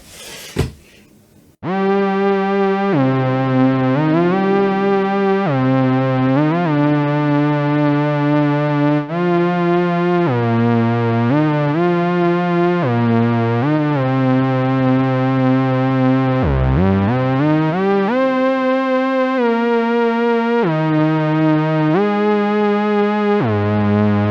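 A Behringer 2600 synthesizer plays a sawtooth patch through a wide-open filter with a bit of reverb, bright buzzy notes stepping through a melody with occasional pitch slides, loud and alone.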